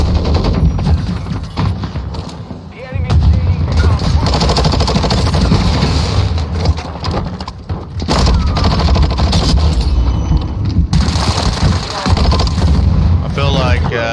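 Dense, loud gunfire in Call of Duty: MWII, with rapid automatic bursts and booming shots sounding nearly nonstop and breaking off in a few brief gaps.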